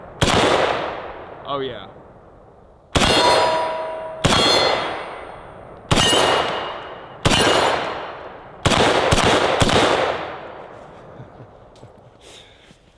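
An M1A rifle fires .308 rounds in about eight sharp, loud reports spaced a second or two apart, each leaving a ringing metallic tail, with a brief voice heard early on.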